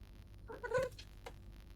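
A cat gives a single short meow at close range, followed by a faint second call, in an otherwise quiet room with no talking.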